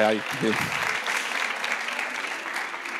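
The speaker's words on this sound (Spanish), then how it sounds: "la podéis aplaudir, eh, que vaya despertando y todo" An audience applauds a volunteer at an educational resources talk; a speaker's voice opens briefly before a sustained, moderately loud round of clapping fills the room.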